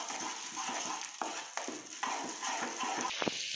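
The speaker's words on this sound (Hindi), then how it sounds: "अब मेल्टेड बटर में हम डालेंगे गार्लिक और इसे सौते कर लेंगे।" Garlic sautéing in melted butter in a pan for a macaroni hotpot, a steady close sizzle and crackle with a few soft stirring knocks, no voices.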